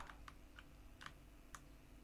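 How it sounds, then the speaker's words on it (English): Arrow keys on a computer keyboard are tapped in a quiet room, five or six faint, sharp clicks spaced irregularly over a low hum. "Now if I press the arrow keys, it will move left."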